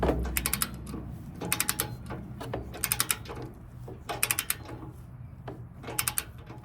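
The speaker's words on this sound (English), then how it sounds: "I got my torque wrench, and it's set to 75 foot-pounds. So I'm gonna run on through here and tighten these up." Torque wrench tightening bolts on a Class C RV front hitch, giving repeated bursts of rapid ratchet clicks, several groups of quick clicks separated by short pauses, close and moderately loud.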